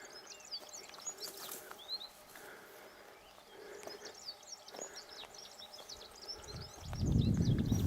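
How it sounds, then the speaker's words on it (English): Small birds chirp and twitter outdoors in South Africa, a busy scatter of faint high calls throughout, with a louder low rumble of movement or wind rising near the end. "You can probably hear the birds."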